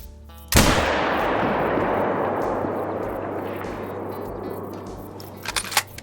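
A single loud hunting rifle shot fired at an animal in the hunting video game theHunter: Call of the Wild, a sharp crack followed by a long rolling echo that fades over several seconds, then a few faint clicks.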